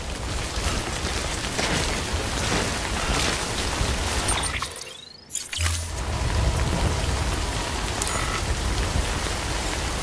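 Steady rain in a video game, a dense continuous hiss that fills the scene and drops out briefly near the middle before returning, with no voices.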